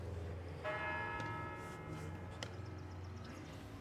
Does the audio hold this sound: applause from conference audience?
no